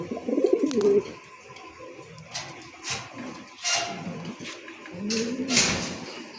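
Pigeons coo repeatedly inside a breeding cage holding paired white racers, low throaty calls recurring in bursts at close range with a few faint chirps and light background rustle.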